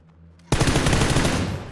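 A drive-by shooting in PUBG starts abruptly after a quiet moment with a loud, continuous burst of automatic gunfire that carries on to the end, with no talk.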